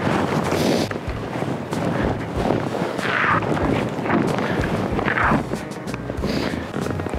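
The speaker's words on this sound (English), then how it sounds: "It's windy up here." Mountain wind during ski touring roars in gusts against the microphone, loud, buffeting and continuous, with surges and lulls and no talking.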